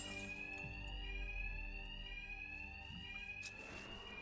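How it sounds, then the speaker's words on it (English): A continuous electronic alarm rings in the Batman: Arkham Knight video game, a steady high pitched tone held throughout at low overall level, with faint thuds and game noise underneath and no talking. "these thugs can't hear a thing over the alarms"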